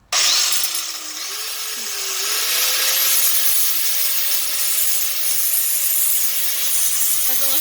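A power tool cuts steel screws during demolition, one continuous whining, grinding cut held close by for several seconds, its pitch wavering slightly as it bites through the metal.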